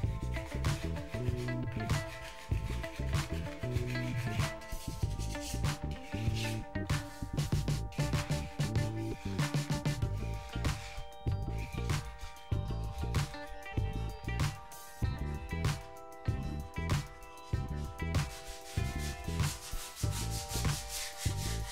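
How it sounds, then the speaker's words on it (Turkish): Steady rhythmic rubbing of sandpaper scraping back and forth across a wall by hand, close and continuous, with no talking. "Hem zımparaladım hem kazıdım."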